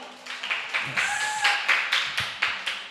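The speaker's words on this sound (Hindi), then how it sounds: "ज़रुब्बाबेल के लिए ताली बजाएंगे हम लोग" Scattered audience clapping at a church youth program, a handful of distinct claps falling in a loose rhythm rather than a full ovation, with a brief tone or voice-like sound mid-way.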